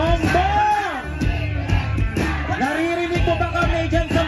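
Crowd of protesters at a night rally shouting and chanting in repeated rising yells, loud and close, with voices overlapping in waves.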